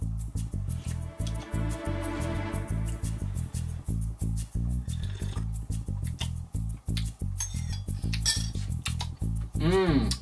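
A metal spoon clinks and scrapes repeatedly against a cup of hot honey lemon tea, with a steady rhythm of close, bright taps, while a voice briefly speaks near the end.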